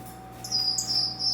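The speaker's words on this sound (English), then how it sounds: "They're Peel's parrot finches" Peale's parrot finches in an aviary give a thin, high, sustained call lasting under a second, faint against a steady low background hum.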